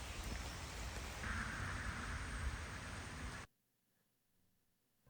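Steady, dense rainfall hisses loudly for about three and a half seconds, then cuts off abruptly into near silence.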